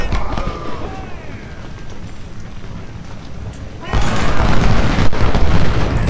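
Civil War artillery at Gettysburg in Ultimate General: Civil War, deep cannon booms rolling under a steady battle din, swelling louder and denser partway through, with a voice briefly audible early on.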